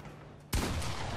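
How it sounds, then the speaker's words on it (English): A burst of gunfire in an online shooter game starts abruptly partway through, loud and dense, after a moment of quieter background game sound. "Shoot, someone shot at me."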